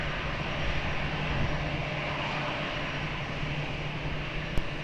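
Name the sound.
airplane taking off at Lisbon Airport, runway 20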